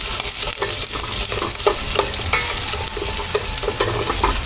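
Chopped onion and garlic sizzling in hot cooking oil in a pan, stirred steadily with a utensil, giving continuous frying crackle punctuated by scraping stir strokes throughout, close and fairly loud.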